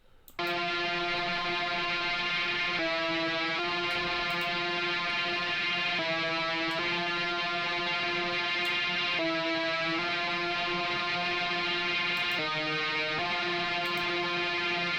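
A Serum synth counter melody runs through Guitar Rig's Hump Maker preset, a sustained, buzzy, distorted tone whose pitch changes every few seconds and holds steady at a moderate level, with no voices.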